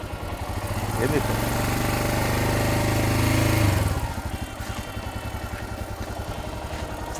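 A motorcycle engine is ridden past, rising to a steady loud drone for a few seconds, then suddenly dropping off as it brakes hard and settles to a rough idle.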